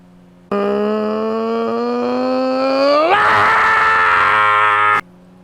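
A voice imitates a loud Honda VTEC scream: one sustained yell that climbs in pitch, jumps higher near the end and cuts off sharply after about four and a half seconds.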